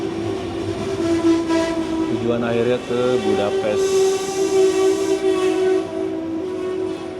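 A Eurocity passenger train with many carriages, seat and couchette cars bound for Budapest, rolls past close by with a loud, steady rumble and rail noise while someone speaks over it.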